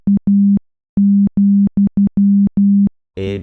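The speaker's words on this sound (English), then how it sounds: "it sounds like Morse code." Morse code tones play from a WAV file as steady short and long beeps in an irregular pattern, loud and clean, then end in a brief burst of buzzy noise.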